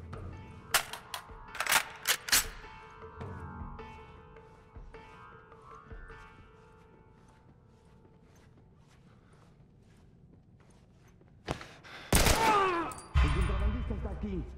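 Gunfire in The Last of Us video game: sharp bursts of rapid shots early on, a quieter stretch with faint movement, then a heavy volley of loud shots near the end.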